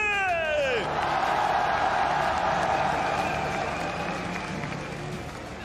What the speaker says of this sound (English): une fois de plus, applaudissons tous ensemble les RNG